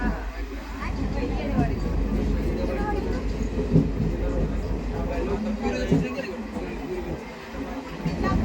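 Rumbling of a moving train with a steady rattle and occasional clacks, voices murmuring in the background throughout.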